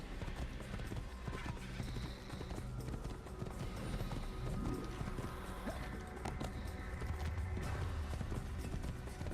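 Rhythmic hoofbeats of a horse moving along steadily in Assassin's Creed, continuous and fairly near amid busy ambient game sound, with no speech.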